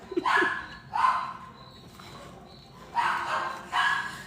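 A dog barks in loud, sharp bursts, two close together, a pause, then two more, near and clear with little else around it.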